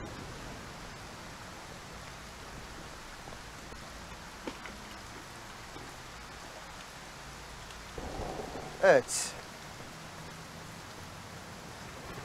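Steady rain hisses throughout in a car dealership simulator video game, then a rumble of thunder rolls in near the end as a voice briefly speaks.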